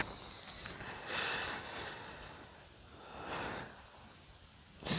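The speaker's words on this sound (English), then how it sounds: "If you're hearing snoring, it is my dog underneath me" A dog asleep under a desk snores softly, with slow breathy snorts rising and falling several times, faint and close, ending in a sharper louder puff.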